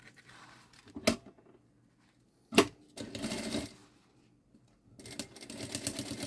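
A sewing machine stitches the end of a strap onto a synthetic-fabric backpack, running in several short separate bursts with quiet pauses between them, close and fairly soft.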